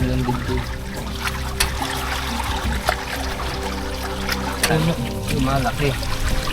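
Continuous rushing flood water during a super typhoon with high tide pours and trickles steadily, a broad wash of liquid noise with faint voices in the background.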